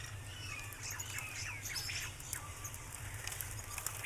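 Birds call in a Cuban mangrove swamp, faint scattered chirps and squawks drifting over a steady low rumble of background noise.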